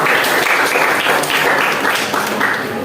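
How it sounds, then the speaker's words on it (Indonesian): Classroom applause for a classmate after an Islamic religious education lesson presentation, a steady dense clapping from a group of students that stays loud and even throughout. "kita berikan aplaus untuk teman kita"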